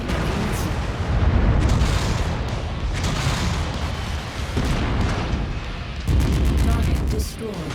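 Missile explosions in the mech combat game MechWarrior 5: Mercenaries, a steady barrage of deep booms and blasts rumbling continuously with brief lulls, loud and close, mixed with game audio and voice callouts.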